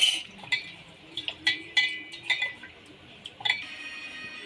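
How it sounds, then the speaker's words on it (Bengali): Mung dal is washed by hand in a metal bowl, with scattered sharp metallic clinks and taps arriving in an irregular series against a quiet, close background. "এবার এপাশে মুগ ডালটা ধুয়ে নেব।"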